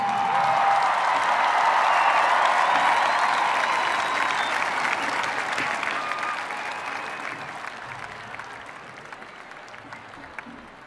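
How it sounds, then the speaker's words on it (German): A large stadium crowd at a live concert in Vienna's Ernst-Happel-Stadion applauds, with loud dense clapping and scattered whoops swelling early then gradually fading lower over about ten seconds. "Die haben sich auch einen fetten Applaus verdient."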